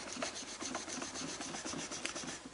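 Guitar frets being crowned with a file, a run of short rhythmic rasping strokes, quiet and close, repeating steadily with no talking.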